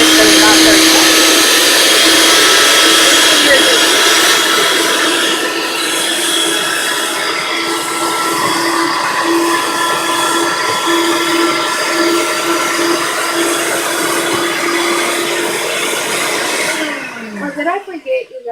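Blender churning a frozen Oreo cupcake mixture, a loud steady whirring drone holding for about seventeen seconds before cutting off, with a voice talking over it.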